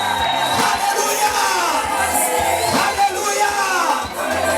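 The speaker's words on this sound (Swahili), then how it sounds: "Mtu mmoja apige kelele na vigelegele kwa Yesu." A church congregation shouts and whoops in praise, a dense, continuous wall of loud crowd voices with rising cries layered throughout.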